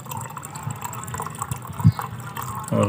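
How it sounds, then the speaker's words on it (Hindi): Warm clean water is swirled and poured in a small glass beaker while rinsing material during gold recovery from RAM IC chips, giving soft close-up sloshes and a few splashy pours. "ये साफ पानी है गर्म, हम ऐसे धो लेते हैं इसको थोड़ा"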